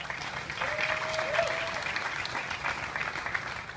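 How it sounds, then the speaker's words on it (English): An audience applauds after a speech at the 2015 Boston Brain Tumor Ride, a charity bike ride, with steady, dense clapping that fills the whole stretch at moderate loudness. "So another round of applause for them."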